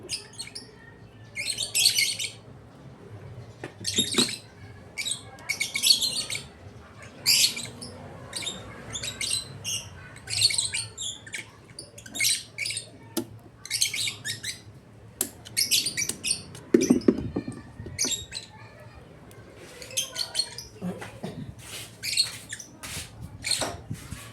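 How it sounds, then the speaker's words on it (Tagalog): Pet birds chirp and tweet in rapid bursts throughout, close and lively, with busy high calls repeating over a faint low hum. "Ang ingay ng mga alaga kong ibon."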